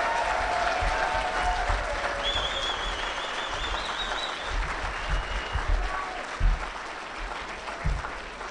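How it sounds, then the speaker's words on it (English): Indoor audience applause at a Conservative political event in Saskatoon, a dense, sustained wash of many hands clapping at moderate distance, steady throughout with a few louder thumps near the end. "let's give another round of applause for all the young people that are here from the Campus Club tonight"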